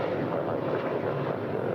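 An airliner's engines roar at full takeoff power on runway 25 right at LAX, a loud, steady broadband rumble filling the short stretch.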